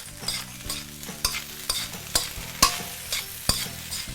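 Rice stir-fried with Chinese sausage and green onion in a hot pan, a crisp sizzle under regular loud clacks of a spatula against the pan, close and alone with no voices.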